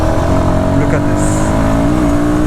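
A Royal Enfield Guerrilla 450 motorcycle engine hums steadily under throttle, a loud continuous drone heard close with wind noise, while someone talks over it.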